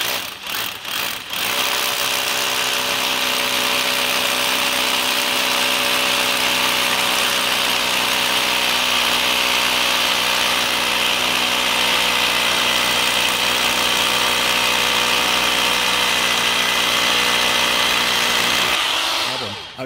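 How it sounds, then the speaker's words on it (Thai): A cordless battery-powered rotary hammer bores into a hard concrete warehouse floor, running as one loud, continuous steady drone for nearly twenty seconds after a few short starting bursts, with no talking. "ดูว่ากำลังเครื่องเขาเจาะเข้าไหมนะครับ"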